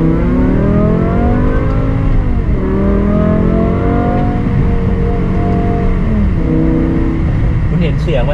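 A BMW M5 E60 sedan with a 500-horsepower V10 revs and accelerates, a loud continuous engine roar with rising and falling pitch sweeps as it climbs through gears, close by, with someone talking over it.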